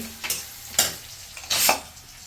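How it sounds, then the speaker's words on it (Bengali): Katla fish kaliya curry fries in a pan, with a soft sizzle under three distinct scraping stirs of the spoon, close and fairly loud. "এটা কাতলা মাছের কালিয়া।"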